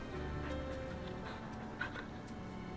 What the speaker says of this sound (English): Just because we love this dog so much, we're gonna pet him 3 times.